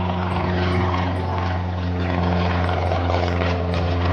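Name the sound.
airplane flying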